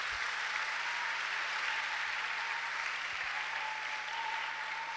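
A church congregation at an evangelistic Sunday service applauds loudly and steadily, a dense wash of clapping from many hands filling the room without a break.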